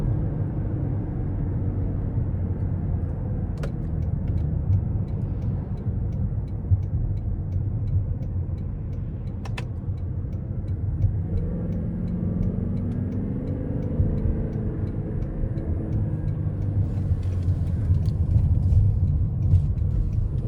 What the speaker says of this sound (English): Now I'm gonna put it into sport mode now, and I'm gonna use the S shifts there.